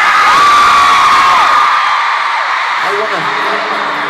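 A packed arena crowd at a concert in Brussels cheers and screams loudly, with high shrill whoops from young fans, the roar fading slightly as a voice begins speaking over it.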